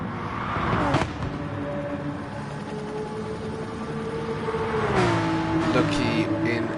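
Porsche 911 race cars in a racing video game, engines droning and revving with gear shifts, rising in pitch as they accelerate out of a corner, under a commentator's voice.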